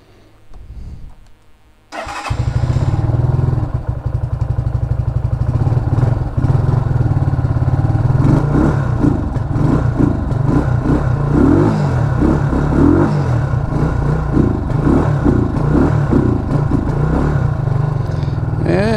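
An RPS Condor 150cc Grom clone motorcycle fires up after a brief quiet moment, then rides along a road with a loud, steady single-cylinder engine drone and pulsing rev changes close to the microphone.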